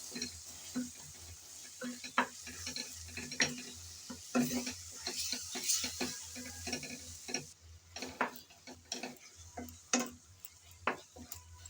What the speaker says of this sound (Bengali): আবারও আমি নেড়ে চেড়ে 2-3 মিনিটের মতো এভাবে ভালো করে কষিয়ে নেব